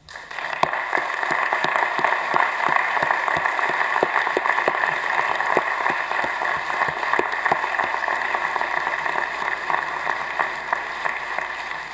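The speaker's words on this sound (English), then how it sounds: "please join me in celebrating the dedication of the Arts and Sciences Building with a round of applause." A large audience claps steadily at the Arts and Sciences Building dedication ceremony, a sustained, even wash of applause with distinct individual claps, lasting the whole stretch without talk.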